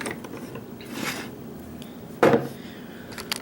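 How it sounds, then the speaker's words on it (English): An American 700 padlock opens with a single short, solid metallic clunk, preceded by faint mechanical shuffling and small clicks, quiet and close. "I love the sound of a padlock opening."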